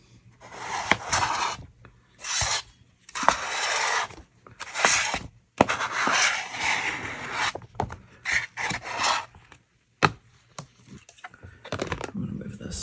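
A scraper drags shaving foam off a sheet of homemade paper in about a dozen short, close rasping strokes with brief pauses between them.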